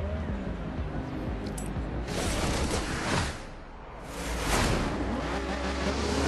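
A Lamborghini Countach LP5000 QV in Forza Horizon 3 spins its wheels under hard acceleration, the engine roaring and rising in two loud surges with a brief dip between them.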